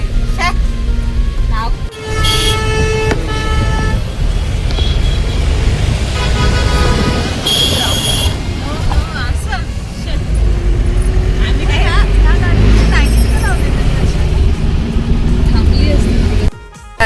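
Steady road traffic noise with a few short car horn toots, close by, under continuous talking.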